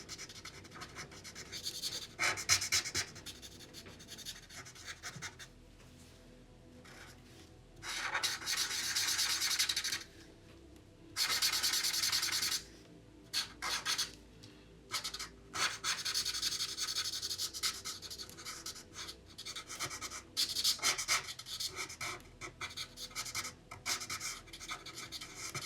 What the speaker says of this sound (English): use that finer tip to just go around my picture